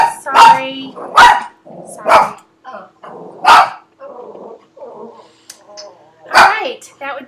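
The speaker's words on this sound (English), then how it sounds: "that would be the dog barking" A dog barks in a handful of sharp, loud barks spaced a second or two apart, with quieter growls between them, and a person speaks in the gaps.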